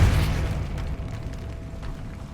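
A Depulso force spell from Hogwarts Legacy releases a heavy explosive boom at the start, then a rumbling tail that slowly fades.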